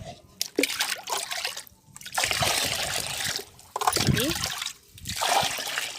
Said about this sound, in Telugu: సో ఇంకొన్ని వాటర్ అయితే యాడ్ చేసుకుందాము